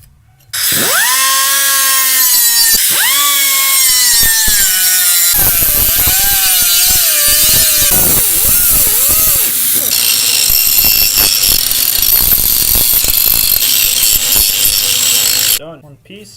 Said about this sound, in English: So now we're just going to cut it out, mark out the holes.